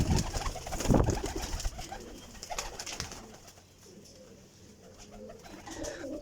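A Sialkoti pigeon with pearl markings coos nearby, a few low throaty calls early on, then quieter cooing amid faint background noise.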